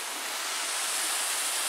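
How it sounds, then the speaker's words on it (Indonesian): Waterfall at Curug Tarung in Temanggung, Central Java, where two streams meet, roaring as a steady, dense hiss of falling water, close and continuous with no voices. "Jadi ada dua curug di sini."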